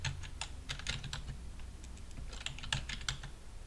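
Keys clatter on a computer keyboard in short irregular bursts of clicks, close and moderately loud, with no voices in this stretch.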